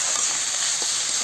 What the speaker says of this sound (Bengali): ভালো করে মিলাই নেবো মশলাটা